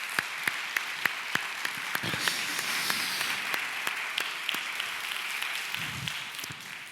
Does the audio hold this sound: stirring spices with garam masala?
no